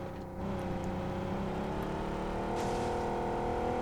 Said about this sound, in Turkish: En hızlı araba buymuş söylenenlere göre.